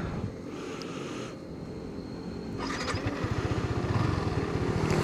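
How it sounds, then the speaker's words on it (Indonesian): A Yamaha R15 motorcycle engine hums under riding wind, then builds into a louder, rapid pulsing drone as it speeds up. "Kayak gimana kalau kita berkendara pakai motor ini?"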